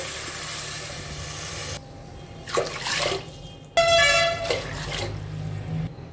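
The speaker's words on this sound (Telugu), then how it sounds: "అందులోకి మూడు గ్లాసులు నీళ్లు వేస్తున్నాను" Water being poured from a glass into soaked rice in a pot comes in two separate splashing pours with a louder gushing rush, set against a steady background hum.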